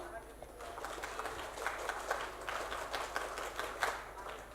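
An audience performs a scout clap on cue during a school curriculum workshop, giving a run of fairly close, crisp claps in a steady rhythm.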